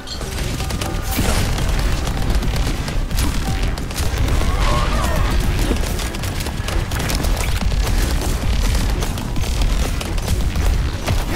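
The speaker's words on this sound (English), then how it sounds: "Oh, I'm getting shot up." Dense video-game gunfire rattles continuously as bullets hit the player during a match, loud and close with bursts, booms and impacts blending into a steady barrage, brief voice chat faintly underneath.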